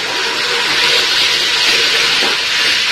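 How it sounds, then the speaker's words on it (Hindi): Chicken pieces fry in hot oil with a little salt, giving a loud, steady, dense hiss of sizzling that fills the whole stretch without a break. "मैं चिकन को डाल के इसमें फ्राई करूंगी।"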